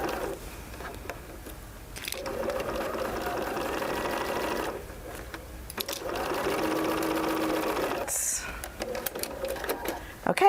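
A sewing machine fitted with a 1/4 inch foot runs in two sustained bursts of rapid whirring stitches, with brief pauses and clicks between them and some speech in the background.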